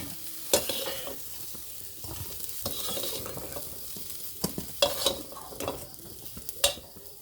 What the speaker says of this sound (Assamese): এতিয়া মই চয়াবিন ফ্ৰাই কৰি লোৱা কেৰাহীতে অলপ এড কৰিছোঁ সৰিয়হ তেল